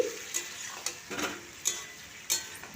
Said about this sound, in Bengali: এটাকে নেড়ে নেড়ে আমি কষে নিচ্ছি